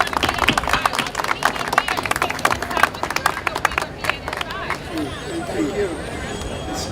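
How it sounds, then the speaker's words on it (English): An outdoor crowd at a National Night Out event at Brooklyn Borough Hall claps for NYPD officers, with a dense burst of applause that thins out while people chatter underneath. "So join me in giving them a round of applause."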